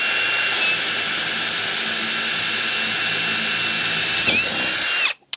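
Ryobi RPD18X cordless drill in second gear boring a 10 mm hole through MDF board, a loud steady whine that dips as the bit breaks through, then stops abruptly.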